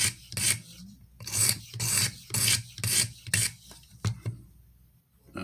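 A Benchmade 13940 knife is stroked across a Venev OCB sharpening stone in a steady series of about eight close, raspy grinding passes with short pauses between them.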